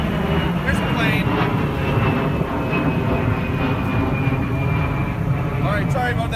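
A fixed-wing airplane passes over near an airport, a loud continuous roar with a slowly descending whine layered through it, heard from close to a parked car and holding steady across the whole stretch.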